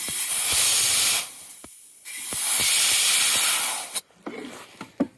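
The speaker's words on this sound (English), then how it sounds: "release your parking brakes in your air brake system, you're actually pressurizing the parking brake chamber" A bus air brake system pressurizing the parking brake chambers to release the parking brakes gives loud bursts of rushing air hiss that stop and start, then a sharp release and a few short puffs.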